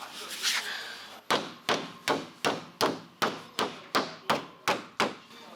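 Hammering out dents in a damaged car door panel in a repair shop, with about eleven sharp metallic blows at a steady, even rhythm, loud and close, after a brief opening noise.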